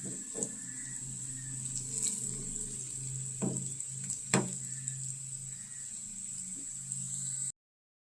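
Onions brown with red chilli powder in a pan for daal chawal, giving a soft, steady sizzle under a constant tonal hum, with a few sharp stirring clicks and scrapes.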